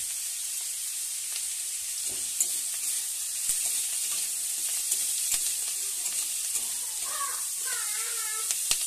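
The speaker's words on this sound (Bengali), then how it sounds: "দেখো বন্ধুরা, পেঁয়াজ কলিগুলো তুলে দিয়েছি, এগুলো ভাজা হচ্ছে।" Onion stalks and chopped onion fry in a pan with a steady, bright sizzle of hot oil throughout, broken by a few light clicks of stirring. A faint voice-like warble comes in near the end.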